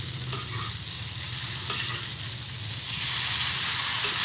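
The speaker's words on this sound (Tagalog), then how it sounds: "Tayo na mga idol, haluin lang natin." Tofu sisig frying in a hot pan and being stirred, with a steady loud sizzle and repeated scraping strokes of the stirring utensil throughout.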